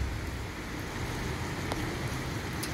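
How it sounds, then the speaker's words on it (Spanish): Steady morning rain in Guadalajara, Jalisco, a soft continuous hiss on outdoor surfaces near a small pool, faint and unbroken with no talking. "Está lloviendo"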